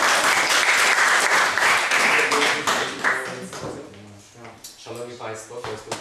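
Audience applause at a poetry slam festival, loud dense clapping for several seconds that thins out into scattered claps, with people talking and calling out over it.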